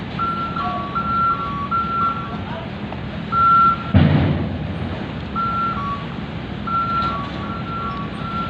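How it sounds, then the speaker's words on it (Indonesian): Heavy truck hauling new motorcycles rolls onto a ferry, its engine rumbling steadily under a repeating pattern of high electronic beeps, with a brief louder burst of noise midway. "Lanjut di belakangnya ada tronton bawa sepeda motor baru ini."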